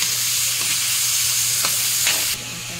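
Meat and shrimp fry in a pan with a loud, continuous sizzle and a few scraping stirs, close up; the sizzle drops abruptly near the end as if the pan is covered, with no voices.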